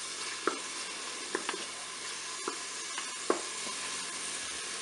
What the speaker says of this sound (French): mon huile est déjà chaude, donc je vais mettre mes oignons dans la cuve. Je vais faire dorer mes oignons